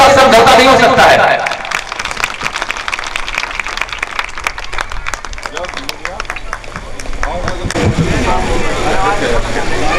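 Loud, dense clapping from an audience at an award ceremony, starting over a blast of music and then holding as a busy, crackling wash of many hands before music rises again.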